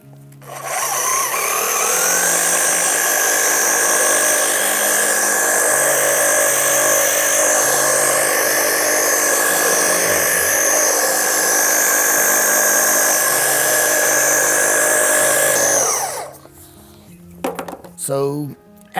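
Machine polisher with a pad compounding the bare metal skin of a fighter jet, a loud steady whine held for about fifteen seconds, then cutting off into quieter handling noises.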